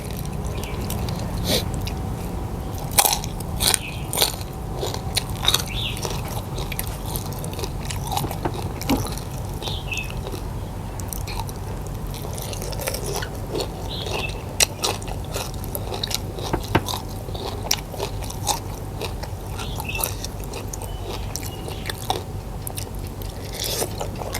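Crispy pork rinds being bitten and chewed up close, with repeated crunchy snaps and chewing over a steady low background, eaten alongside spicy pickled shrimp salad.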